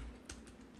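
Typing on a computer keyboard during a PHP programming session, a quick run of light, close keystrokes ticking along with no talk.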